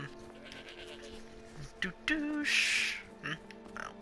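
A goat in the video game Skyrim lets out a wavering bleat amid faint background game sounds, with a few short clicks and tones around it.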